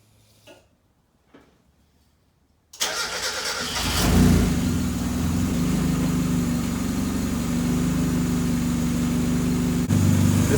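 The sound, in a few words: test start of a turbo Mazda Miata engine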